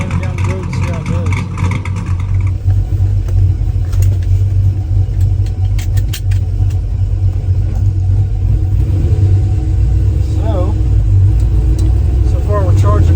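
A car engine running as the car is driven down a road, a loud steady rumble with rising revs, a voice talking over it.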